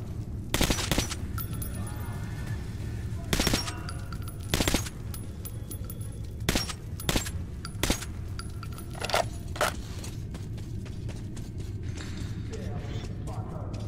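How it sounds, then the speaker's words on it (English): Gunfire in Metro: Last Light Redux, sharp single shots and short bursts scattered irregularly across the stretch, some metallic clinks between them, over a steady low background hum with a voice talking at times. "Shots fired."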